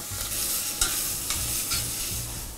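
Shallots, onion and carrot hiss and crackle in a hot pan with browned pigeon fillets as they are stirred, a close, continuous sizzle broken by a few sharp scraping strokes.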